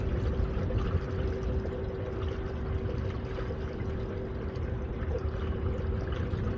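Antifreeze mixed with water poured into a car radiator, a continuous close gurgling rush of liquid that holds steady for several seconds with no talking.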